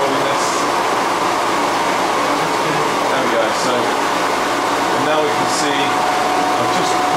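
An electric vehicle motor on a test rig slowing slightly as its supply voltage, set around 840 to 850 volts, is lowered: a steady, loud broadband whir and hum with a faint tonal whine, continuous throughout.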